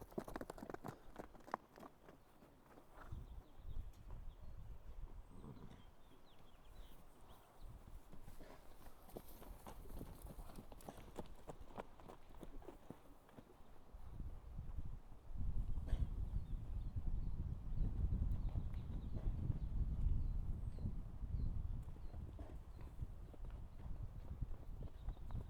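A herd of horses, including a filly, walks around a paddock, hooves clip-clopping in an irregular, shuffling rhythm at close to mid distance, with a heavier rumble of movement later on.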